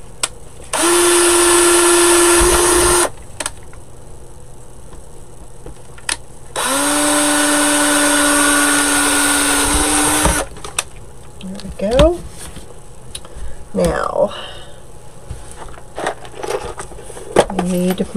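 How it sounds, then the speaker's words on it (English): A power drill bores two holes into a repurposed trash-to-treasure garden angel craft piece, two steady whirring bursts of about two and three and a half seconds separated by a pause, followed by softer handling clatter and brief voices. "now I'm going to go ahead and I'm going to put two holes in this."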